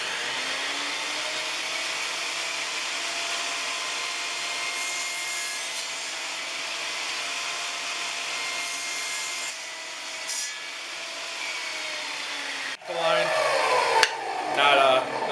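A saw cuts through wood pieces for a glass frame in a steady, continuous rasping stroke, close and moderately loud, ending in a few knocks and clatters.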